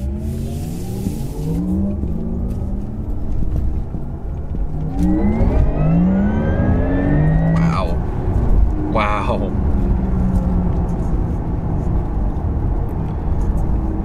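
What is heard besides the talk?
Porsche Taycan electric car's artificial driving sound while accelerating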